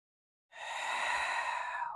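A single deep breath during yoga practice, starting abruptly after a half-second of silence and continuing as a soft, breathy airflow close to the microphone, with no talk.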